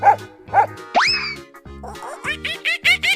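A cartoon dog barks in a bouncy, exaggerated series of short, springy yaps and boings, close and bright, with a playful synthetic character and no talking.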